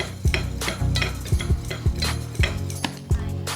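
A spoon scrapes and knocks against a metal pot as cardamom powder is stirred into a kulfi mixture. The clinks and scrapes are loud and close and come in a rough, repeating rhythm, with no voices.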